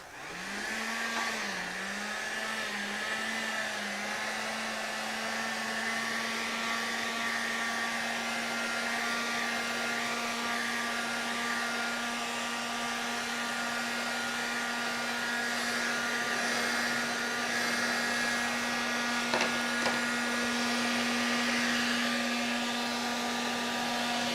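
A hair dryer runs continuously for the whole stretch, drying paint in an art journal: a steady, close, loud whirring blow with a slight pitch wobble at the start, then an even tone.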